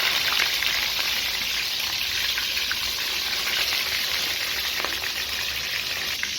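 Eggplant frying in hot oil gives a steady, fairly faint hiss and sizzle with small crackles scattered throughout, no voices.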